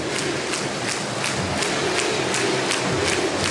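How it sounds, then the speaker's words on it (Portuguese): Flamengo football fans in a stadium chanting the name Felipe Luiz after winning the Campeonato Carioca title, a dense roaring crowd with steady rhythmic pulses of the chant. "Torcida gritando Felipe Luiz."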